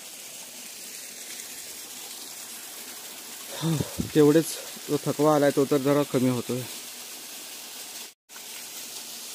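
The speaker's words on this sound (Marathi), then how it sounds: "आता हे जे पाणी खाली जातंय" Spring water flows and gushes steadily downhill at Lonar with a soft, constant rush that runs from start to end. Someone speaks briefly midway over the water, and a short dropout comes near the end.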